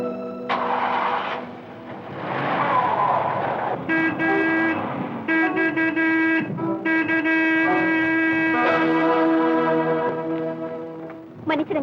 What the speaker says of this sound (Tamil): நான் ஹாரன் அடிச்சுக்கிட்டு தான் வந்தேன்.